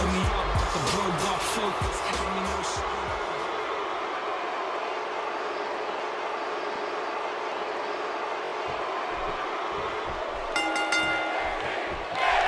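An arena crowd in WWE 2K17 roars with a dense, continuous wash of noise. The roar stays loud and steady throughout, with a thumping impact near the start and a brief tonal blip near the end.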